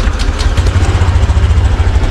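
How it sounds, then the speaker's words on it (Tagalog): A Honda Genio scooter-style motorcycle fitted with an anti-theft immobilizer settles into a steady idle right after starting. The low, pulsing engine rumble sounds close and loud, with no talk over it. "start natin yung motor."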